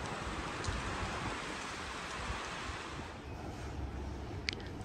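Ocean waves wash ashore at Sandy Creek near Darwin on a very big tide, a steady broadband roar of surf and wind with no talking.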